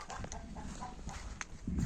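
Australorp and Adler chickens in a cage give off a low, continuous mix of clucks and murmurs, with a slightly louder burst of clucking near the end.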